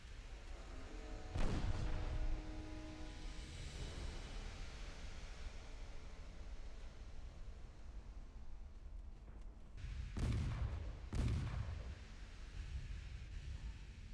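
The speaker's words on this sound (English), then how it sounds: "Torpedo detonation." A torpedo detonates against a warship's bow in the naval combat game Ultimate Admiral Dreadnoughts, a heavy low rumbling boom over a steady sea-and-wind bed, followed later by two more deep thuds.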